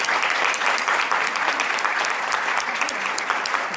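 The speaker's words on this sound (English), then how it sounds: "So I think she deserves a special round of applause." A conference audience bursts into a round of applause at the close of a university event, dense loud clapping held steady throughout with no break, close and full.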